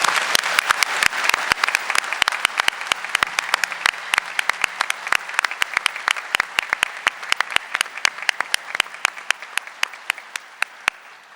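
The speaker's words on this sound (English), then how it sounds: "So I hope the audience will join me in giving them all a round of applause." An audience at a community summit gives a round of applause, a dense, steady clapping with sharp individual claps that carries on alone and slowly thins and fades toward the end.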